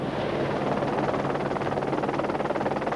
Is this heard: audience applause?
no